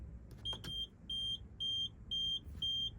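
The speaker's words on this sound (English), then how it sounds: "if I was, you'd hear it sort of beep and flash at me" Warning beep from a Buccaneer caravan control panel: five evenly spaced, sharp high-pitched beeps, each lasting about a third of a second, sounding close and clear over a faint low hum, with a couple of clicks near the start.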